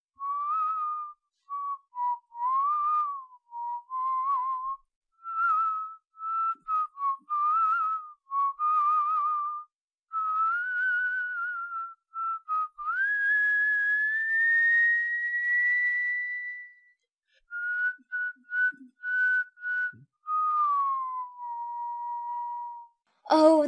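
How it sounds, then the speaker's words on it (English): A lone person whistles a tune, clear melodic phrases broken by short pauses, including a long rising held note midway, ending with a brief burst of noise. "and began whistling."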